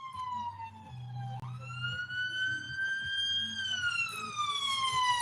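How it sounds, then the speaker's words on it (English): An ambulance siren wails loud and close, its tone sweeping smoothly up and then easing back down, while a low hum runs underneath. "Oh, an ambulance. It's an ambulance."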